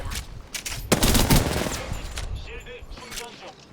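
Gunfire from the far side of the map in a ranked video game match, a burst of loud shots near the middle amid other game noise and faint background chatter.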